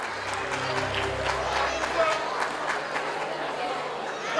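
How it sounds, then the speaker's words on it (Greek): Audience applause at a school performance showcase in Kozani, a steady wash of clapping with crowd chatter running underneath, fairly near and even throughout. "Χειροκρότημα και για τον Γιάννη"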